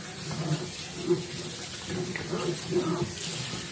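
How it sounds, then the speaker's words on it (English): A kitchen tap runs steadily to rinse cleaning paste from a sink, a close continuous splashing stream with a few louder gushes as the water hits the basin. "So then you can just rinse this part."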